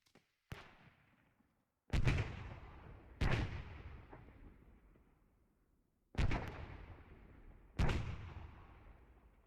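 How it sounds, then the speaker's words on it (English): Gunfire in a tactical multiplayer match, heard as five sharp, heavy shots spaced a second or more apart, each with a long booming tail fading out. "Drake and Colin exchanging fire over the middle here."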